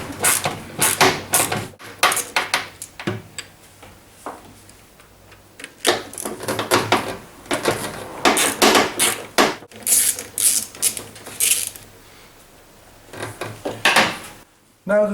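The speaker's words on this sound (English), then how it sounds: "I'm using a quarter drive socket set" A quarter-drive socket wrench ratchets out the motor bolts on a Gorenje washing machine, with bursts of rapid clicking separated by pauses and some clanking metal handling, close and fairly loud.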